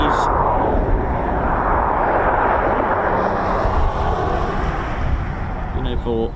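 A military training aircraft passes overhead, its engine making a steady, loud broadband roar that holds for several seconds with wind buffeting mixed in.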